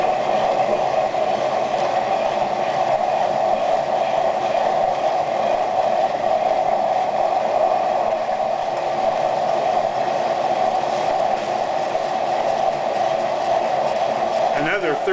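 A grinding machine works a marble sphere with a steady, continuous mechanical drone and faint rattle, holding an even loudness throughout with no breaks.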